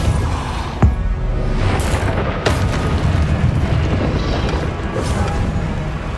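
Repeated spell blasts and booming bursts from Hogwarts Legacy combat, with a sharp crack near the start and rolling explosive rumbles throughout, loud and close.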